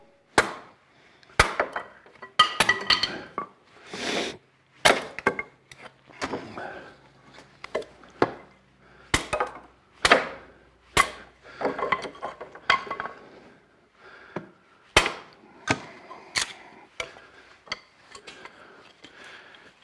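Dry wood being chopped into kindling for a wood-burning stove, with a steady run of sharp, close chopping strikes and splits at an uneven rhythm, each hit followed by light rattling of pieces falling.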